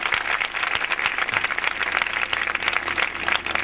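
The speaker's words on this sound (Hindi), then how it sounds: "ताली बजाए जोर के साथ उसके कदूस नाम के लिए।" A church congregation claps loudly and steadily together, a dense stream of close, sharp handclaps running unbroken throughout.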